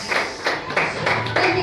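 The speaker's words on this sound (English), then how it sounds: "Give a round of applause for Susan Thomas." An audience claps for comedian Susan Thomas at a stand-up show, a close, moderately loud burst of dense hand claps that comes in uneven waves and carries on for the whole moment.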